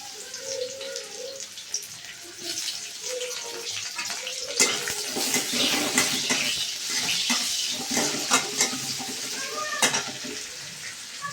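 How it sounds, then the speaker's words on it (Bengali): Chopped onions sizzle in hot oil for a tempering in a mustard brinjal curry, a steady close crackle and hiss with brief spattering pops throughout. "দেখতে পাচ্ছ পেঁয়াজটা বেশ ভালো করে ভাজা হয়ে গেছে।"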